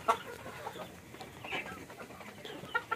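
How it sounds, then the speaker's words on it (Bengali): An egg-laying farm hen clucking faintly at a farm, with a few short, soft clucks scattered over a quiet, low-level background and no talking. "তো আমার ডিম পাড়া ফার্মি মুরগি।"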